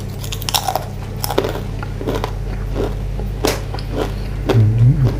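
Crispy baked vegetables, including pumpkin and potato, crunched and bitten close to the mic in several sharp, separate bites over a steady low background hum, with no talking.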